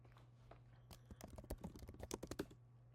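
Fingers type a terminal command on a computer keyboard, starting with sparse keystrokes that build into a fast, close burst of clacking keys before easing off at the end.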